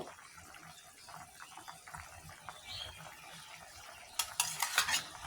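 Fried sarputi fish slid into a boiling gourd curry, a soft bubbling simmer followed by a burst of clattering pot and utensil sounds near the end.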